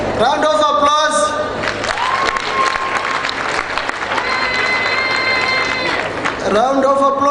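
Applause from the audience at a World AIDS Day launch event led by South Africa's Deputy President, loud and continuous across the room, overlapped by a voice on the public address at the start and end.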